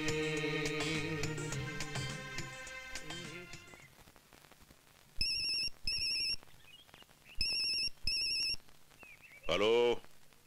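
A telephone rings in a 2004 Hindi action film: after background music fades, two pairs of sharp electronic ring bursts sound, loud and clear, followed by a brief swooping tone.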